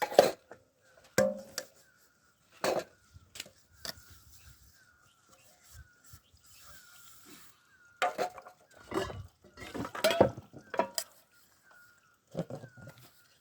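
Dishes, pots and pans being washed and scrubbed by hand outdoors in a village, with intermittent clanks and scraping scrubs separated by quiet gaps, close by.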